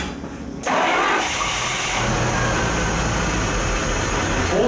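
V12 engine of a 1976 Jaguar XJS starting and settling into a loud, steady throttle-held roar close by, running on without any break.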